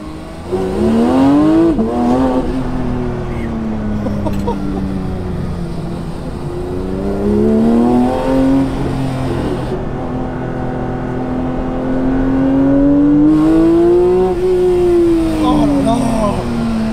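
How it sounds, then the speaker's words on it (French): A Porsche 992 GT3 engine revs up and down repeatedly, rising and falling in pitch with sharp downshift blips, loud and close, no voices. "Ce son de voiture de course."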